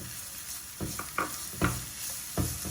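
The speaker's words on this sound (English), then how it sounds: "Saute this till the onion gets nice and translucent for a minute to a minute and a half" Finely chopped red onion sautés in a pan, a soft continuous sizzle broken by four or five sharp scraping stirs, close and fairly quiet, no talking.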